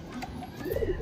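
A Girebaz pigeon, a desi high-flyer breed, gives a brief, soft, close coo near the end of a quiet moment.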